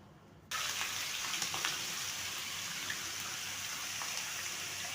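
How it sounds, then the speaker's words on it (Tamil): Onion, tomato, ginger, garlic, mint and coriander sautéing in a pan for a chicken curry, a steady close sizzle that starts abruptly and holds level throughout, with a few faint scrapes and no voices. "நல்லா வதக்கிக்கோங்க."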